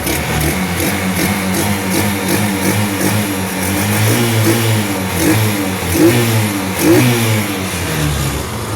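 A Honda Supremo motorcycle with a converted piston-type carburetor is revved repeatedly with the throttle. The engine note swells and falls close by, loud and steady over an underlying idle, with no talk.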